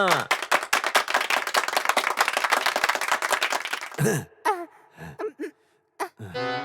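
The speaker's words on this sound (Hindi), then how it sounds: "तालियां।" Brisk, loud clapping from a small group greets two souls arriving in a comic afterlife scene, dense for about four seconds before breaking off into scattered gasps and voices.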